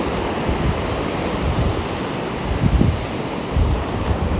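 Ocean waves washing onto a beach at North Wildwood, New Jersey, a continuous broad roar of surf with a slightly louder swell near the middle, no voices.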